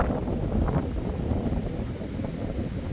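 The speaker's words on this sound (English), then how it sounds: "the place is very windy" Wind buffets the microphone in low, rumbling gusts, a steady blustery roar close up with no voices.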